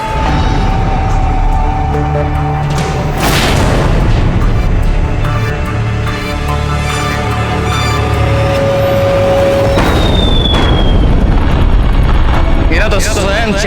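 Artillery shells exploding in a Hindi historical TV serial set during a siege: loud, continuous booming and rumbling blasts layered over one another for the whole stretch, with voices mixed in under the din.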